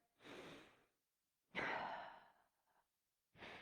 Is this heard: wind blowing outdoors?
no